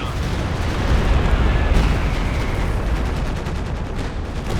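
A dense artillery barrage in the Company of Heroes 2 strategy game, a continuous loud roar of overlapping explosions and gunfire with no break throughout.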